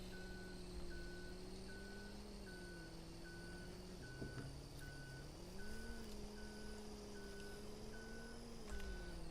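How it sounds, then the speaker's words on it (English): A forklift's reversing beeper in Farming Simulator 22 sounds a steady run of evenly spaced electronic beeps, fairly quiet, over a constant low engine hum. "Apparently, because the forklift is backwards, I am forever have beeper going."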